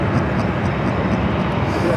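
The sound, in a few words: Boeing 747 jet airliner at Los Angeles airport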